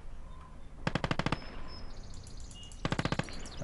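Two short bursts of MG34 machine gun fire in a video game of German forces on the Atlantic Wall, each a rapid string of about six loud shots, with a quieter pause and faint battlefield chirps between them.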